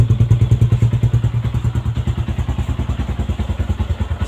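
Close, steady idle of a Yamaha Sniper 150 motorcycle engine, a low, even chugging beat that continues without pause, with light mechanical clatter on top.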